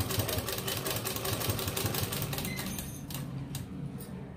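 Domestic sewing machine stitching a collar onto a ladies' kameez neckline, with a steady rapid mechanical whirr and needle clatter that continues throughout at moderate level, then slows and thins out toward the end.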